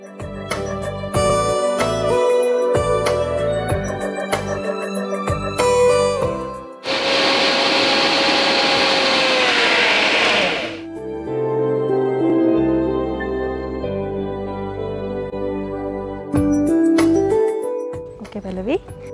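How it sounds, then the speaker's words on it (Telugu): A kitchen mixer grinder blends a paste of coriander leaves with water for coriander rice, a loud steady whirring burst of about four seconds in the middle, with talk and clinking utensils before and after. "ఇప్పుడు మనం దీన్ని మిక్సీ పట్టేసుకుందాం."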